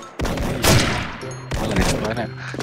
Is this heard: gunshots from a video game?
yes